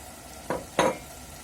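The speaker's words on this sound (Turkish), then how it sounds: "Güzelce karıştır." Spiced minced meat filling for Turkish pide being stirred in a bowl with black pepper and red pepper powder: two short, soft scraping swishes close by, in a quiet room.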